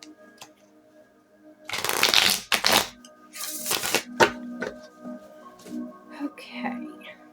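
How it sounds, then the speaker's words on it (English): Gilded Tarot cards are shuffled in a few quick riffled bursts near the microphone, crisp papery flutters and snaps separated by brief pauses over a quiet background hum. "Shuffle it a couple of times."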